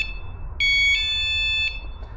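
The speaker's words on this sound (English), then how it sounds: "So this alarm goes." A Vanguardian motorhome alarm sounds during pairing: a shrill electronic tone rings out loud and close for about a second, changing pitch partway through, then cuts off over a low background rumble.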